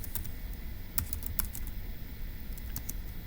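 Fast keystrokes on a computer keyboard, light scattered taps over a steady hum, close and fairly quiet with no voices.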